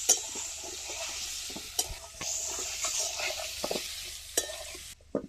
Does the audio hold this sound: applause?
no